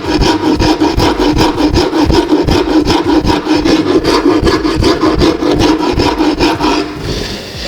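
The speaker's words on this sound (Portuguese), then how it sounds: "Agora eu vou pegar uma grossa e tentar dar um acabamentinho aqui para ficar um pouquinho melhor." A rasp files the wooden handle slot of a trash bin, making loud, close, rhythmic back-and-forth rasping strokes at about three per second that continue steadily before easing off at the end.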